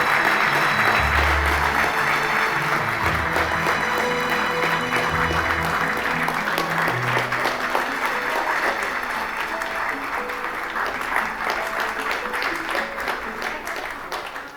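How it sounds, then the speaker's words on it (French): Sustained audience applause fills a plenary session of a Japan-Africa public-private economic forum, steady and full throughout with a slight fade near the end, with no voices over it. "Ladies and gentlemen, let's give them a warm round of applause."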